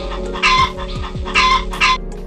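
A farmer's hen clucks in three loud, close bursts, separated by short pauses, over a steady low hum with no voices.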